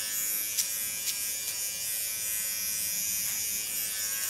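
Electric hair clippers run continuously while trimming a woman's neckline, a close, steady high buzz with a few faint ticks as the blades touch skin and hair.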